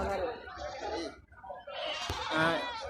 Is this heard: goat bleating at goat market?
yes